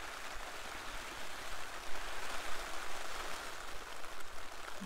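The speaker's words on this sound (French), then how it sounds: "Bon il pleut, ça fait pas semblant." Heavy rain falls in a mountain camping spot, a continuous hiss of drops striking a surface close by that lasts the whole few seconds, with no voices.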